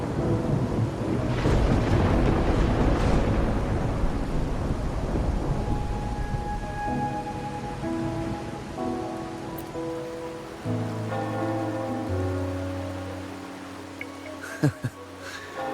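Steady rain with rumbling thunder in the video game Wuthering Waves, a broad wash of noise that holds throughout and fades under soft musical tones toward the end, with no talk.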